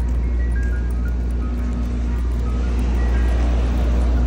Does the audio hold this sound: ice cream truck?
yes